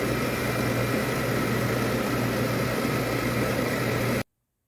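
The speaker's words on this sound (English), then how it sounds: "So I'm just going to take this to about a 600 grit using some sandpaper." Hand sanding a handmade silver cabochon bezel with 600 grit sandpaper gives a steady, continuous broadband rasp that holds evenly for about four seconds, then stops abruptly into silence.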